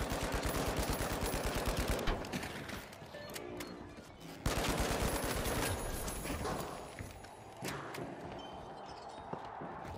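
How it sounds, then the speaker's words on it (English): Rapid gunfire in the first-person shooter game The Finals, dense bursts of automatic shots crackling loud and close, pausing briefly before resuming in fast volleys. "No, I'm getting shot by red."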